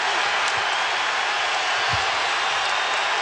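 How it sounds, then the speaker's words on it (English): A basketball arena crowd applauds steadily in a dense, even wash of clapping that fills the whole stretch, with a couple of faint low thumps beneath. "Crowd applauding the physical play of Wallace"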